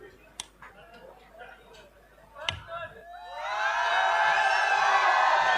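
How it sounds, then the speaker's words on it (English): Crowd at a wrestling bout cheering and shouting, swelling from scattered claps and calls into a loud, sustained roar of voices in the second half. "You can hear the cheering."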